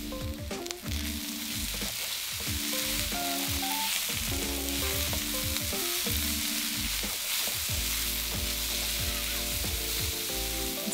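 Frozen peas sizzle and fry steadily in a hot pan for curry puff filling, a continuous loud crackling hiss with occasional clatter of stirring, no voices.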